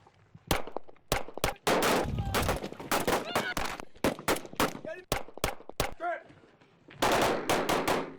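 Soldiers at the Coltana training base fire machine guns ahead of deployment to Afghanistan, giving sharp, loud bursts and single cracks in an uneven rhythm with short pauses between volleys, without speech.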